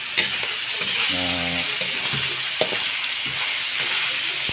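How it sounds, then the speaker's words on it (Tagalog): Pork stir-fries in a hot pan for laing, a steady close sizzle with scraping stirs and a brief tonal clank near the start, no speech over it. "stir fry na natin yung pork."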